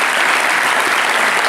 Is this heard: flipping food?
no